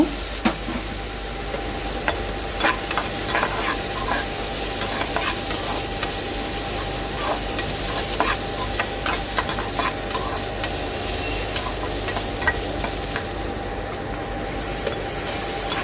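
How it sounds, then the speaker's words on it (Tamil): Onions sizzle steadily in a hot pan with turmeric for Chettinad crab masala while a utensil stirs and scrapes through them with occasional clicks, no voices. "மஞ்சத்தூள் ஆட் பண்ணி நல்லா கிண்டி விடுங்க"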